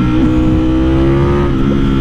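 A 2020 Ducati Streetfighter sport motorcycle engine revs steadily and loudly at close range, a rich throaty drone with layered harmonics throughout.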